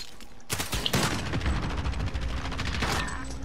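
Rapid automatic gunfire from a player's own weapon in a multiplayer video game, loud and close, in several sharp bursts of cracking shots with mechanical clatter in between.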